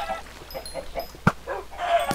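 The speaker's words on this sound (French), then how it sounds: "il faut tuer les poulets. Regarde, ils tombent du ciel, les poulets, là." Cartoonish chicken clucks from the Archer Hero video game, a few short soft calls with a brief sharp hit midway, set over faint game background sounds.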